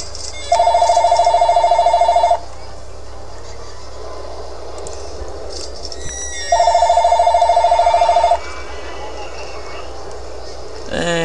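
A telephone rings during a Roller Coaster Tycoon 2 play session, two bursts of steady electronic trilling a few seconds apart, loud and close over quiet game ambience.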